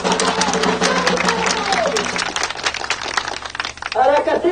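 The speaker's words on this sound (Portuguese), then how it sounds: "Uma salva de palmas." Applause at a Movimento Sem Terra meeting, a crowd clapping steadily at moderate volume, fading toward the end as a voice begins to speak.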